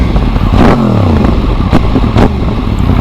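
A motorcycle engine close by is blipped on the throttle, a sharp rev that rises and falls quickly, then settles back to a rough, loud idle with a couple of brief pops or clatters.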